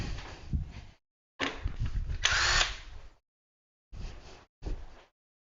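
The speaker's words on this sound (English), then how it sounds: "let me find my drill" A cordless power drill runs in four separate bursts of drilling, each roughly a second long with short gaps between, close and fairly loud.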